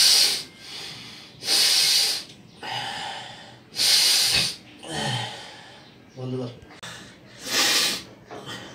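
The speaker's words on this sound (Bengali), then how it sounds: "আমি এখন নাক দিয়ে শ্বাস নিচ্ছি" Steam inhaled through the nose from a bowl of hot water, a home remedy for cough and cold: repeated loud hissing, snorting breaths in a steady in-and-out rhythm, close to the microphone, with a short break partway through.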